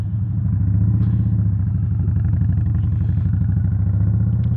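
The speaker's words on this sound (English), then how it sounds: "And this exhaust sounds good." A 2022 Indian Chief Bobber motorcycle exhaust burbles at a steady idle, a deep, even pulsing thump close by and loud, with no talk over it.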